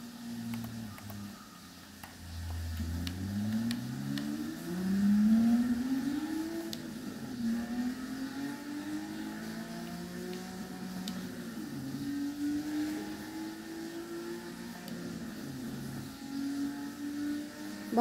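Racing car engine in Forza Motorsport 6 gameplay, revving up and shifting through gears in repeated rising sweeps, fairly faint and steady across the whole stretch with no talking.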